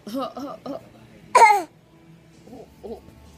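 One short, sharp cough from a small child, with faint babbling sounds just before and after it.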